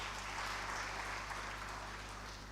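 Applause at an opening ceremony after a call to cheer a signing with Katsina State, a continuous, fairly distant wash of clapping under a steady low hum.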